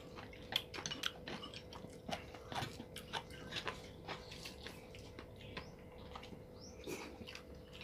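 Someone chewing and biting grilled chicken, a rapid run of soft crunchy bites and mouth clicks close to the mic, faint over a low steady background hum.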